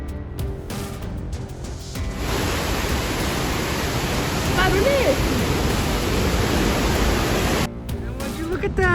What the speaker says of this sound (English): Murky water swirled powerfully around the dam amidst the sound of persistent rain